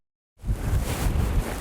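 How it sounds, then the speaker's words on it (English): Wind blows outdoors on a windy night at a caribou hunt, a steady low rumble buffeting the microphone that starts abruptly and holds at an even, fairly loud level with no voices. "it's a little windy tonight"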